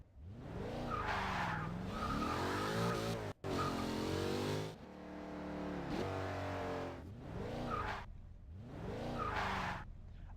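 Repeated tyre squeals from cars in Garry's Mod, several loud, wavering screeches in bursts separated by brief pauses and engine drone, with no voices over them.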